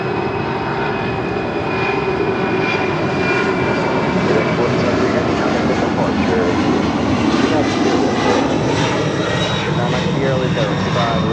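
A fixed-wing airplane lands on runway 25 left at LAX, its engines giving a loud, steady roar that fills the whole stretch, with radio voices talking over it.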